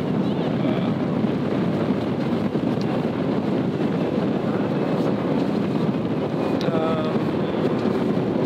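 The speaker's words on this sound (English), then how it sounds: "There's a lot of wind right now." Strong outdoor wind buffets the microphone in a loud, continuous rumbling roar that lasts the whole stretch with no let-up.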